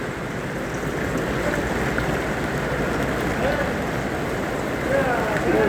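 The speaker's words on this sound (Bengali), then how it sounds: "এখন দেখেন গাইস কি পরিমাণ বৃষ্টি হচ্ছে" Heavy rain pours steadily in Abha, Saudi Arabia, a dense continuous wash of drops close by with a faint voice now and then underneath.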